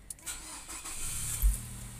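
A Nissan car engine cranks and catches after its crankshaft and camshaft sensors are refitted in a workshop, giving brief starter whirring followed by a low, rising rumble as the engine fires up close by.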